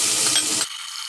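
Chopped garlic hits a hot pan for Chinese-style beef brisket, setting off a loud, bright sizzle that fades sharply into a quieter, thinner hiss after about half a second.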